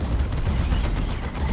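A Tyranid Hive Tyrant's Venom Cannon fires amid a 3v3 Dawn of War 2 battle, a dense, loud barrage of booming thuds and rumbling impacts packed tightly over a short stretch.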